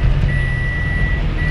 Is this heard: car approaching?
yes